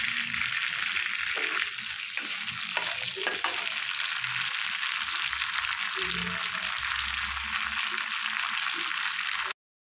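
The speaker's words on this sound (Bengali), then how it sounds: "এই মাছ ভাজা তেলটার মধ্যে আমি কটা গোটা গরম মশলা ফোড়ন দিয়ে দিলাম" Whole garam masala and dried red chillies are tempered in hot oil that was used for frying fish, giving a loud, steady crackling sizzle that runs continuously for almost ten seconds before stopping abruptly.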